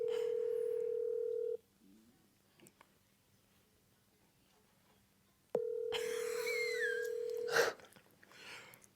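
A phone call rings through a handset held up to a microphone: a steady outgoing ring tone sounds for about a second and a half, stops, then returns loudly after a pause, with brief voices and rustling in between.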